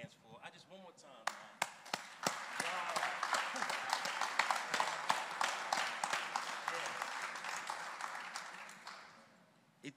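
An audience at a sheriff's office program event breaks into applause, starting with a few sharp, close individual claps, swelling into dense clapping and then fading away; a voice speaks briefly at the start.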